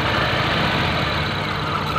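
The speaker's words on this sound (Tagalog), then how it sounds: "Yun, nakita nyo, palyado ang makina." A car engine with a defective ignition coil or spark plug idles roughly and misfires, giving a steady, close, uneven rumble with no clear gaps over two seconds.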